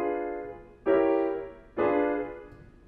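Two sustained diminished chords sound one after another at a senior composition recital, each struck firmly and ringing out as it slowly fades.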